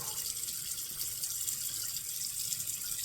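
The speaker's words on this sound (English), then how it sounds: "You just rinse your face, gently wash it off, rinse it off, and wipe like that." Water runs steadily from a tap while a face is rinsed, a soft, continuous splashing hiss at low volume without any speech.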